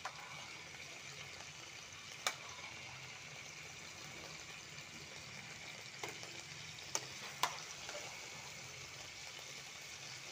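Meat lightly frying in a pan, a steady, even sizzle and crackle running throughout, with a few sharp louder pops standing out.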